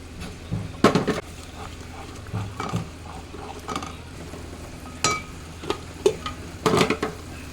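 A spoon scrapes and knocks around a pan stirring egg-curry masala, in irregular strokes, with a faint sizzle underneath and occasional louder clinks.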